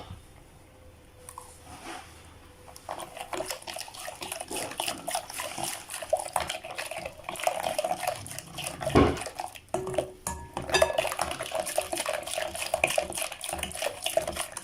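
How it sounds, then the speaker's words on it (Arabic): Chocolate cake batter with oil is mixed steadily in a bowl, a continuous wet, sloshing churn with light clinks of the utensil, close and growing busier after a quieter start. "غادي نبقاو كنخلطوهم مزيان"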